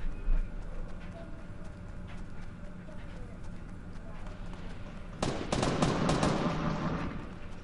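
Fortnite gunfire erupts after a stretch of quieter game ambience and scattered footsteps, a loud burst of rapid shots crackling near the end while players chat over voice.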